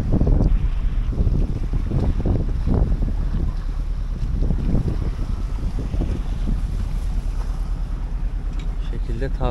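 Sailboat running under mainsail alone in a very light breeze off Bozburun, with a constant low wind rush and water sloshing against the hull, close and steady, no talking.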